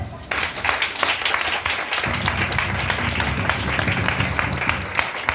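A church congregation applauding and acclaiming God: steady, dense clapping from a crowd, loud and continuous throughout, with voices mixed in.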